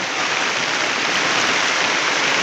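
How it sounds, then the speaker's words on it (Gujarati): Heavy rain pouring down during a walking pilgrimage to Ramdevra in Rajasthan, a dense, continuous hiss of drops that stays loud and even throughout, with no voices. "વર્ષમાં જોરદાર વરસાદ પડ્યો છે"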